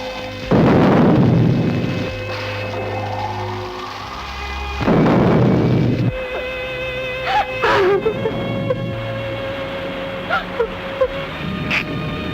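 Heavy thunder booms during a rainstorm, two loud rumbling crashes a few seconds apart, followed by softer crackles and a steady hiss of rain, with a faint voice-like wail in between.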